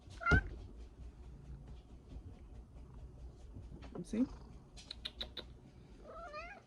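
A cat meows a few times, soft and close, between quiet stretches, while a person speaks briefly in the background.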